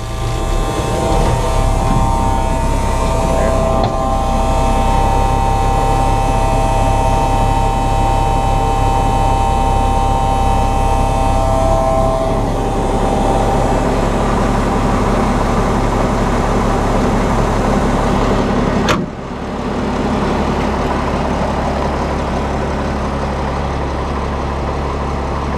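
A deuce military truck engine idles steadily after starting, a loud, continuous low rumble with a droning hum, close by and unbroken apart from a brief dip late on, with no voices.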